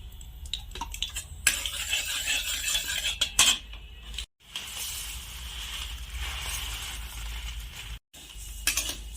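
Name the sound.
vermicelli being stirred and fried in ghee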